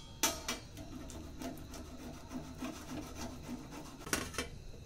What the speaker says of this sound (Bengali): ঘষে নিচ্ছি।